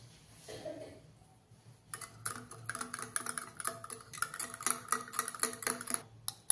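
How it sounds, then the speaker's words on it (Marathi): Yogurt being whisked in a bowl for a homemade cake: rapid, repeated clinks and scrapes of a utensil against the bowl, quiet at first, then steady and busy, with no talking. "आता हे दही चांगलं फेटून घ्यायचं आहे"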